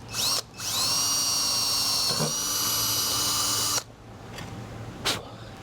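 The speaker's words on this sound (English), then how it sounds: "So now that I've got the pilot hole drilled" A power drill bores a pilot hole for the VIN on a 1966 Ford Bronco, whining loud and close with a steady high pitch for about three seconds, then cutting off, followed by a few short sharp taps and clicks.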